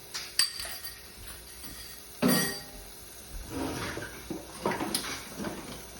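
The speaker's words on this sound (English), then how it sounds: "We'll give it a little stir." A utensil stirs garlic in a cooking pan, with a few sharp metallic clinks and knocks followed by softer scraping and shuffling noises close by, and no talking.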